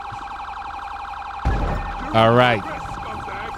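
A police siren from a patrol car in GTA 5 with the LSPDFR mod wails steadily through the whole stretch. Someone speaks briefly over it near the middle.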